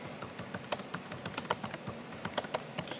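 Quick, light keystrokes on a computer keyboard as a layer name is typed in photo-editing software, a short irregular burst of close, crisp clicks with no talking.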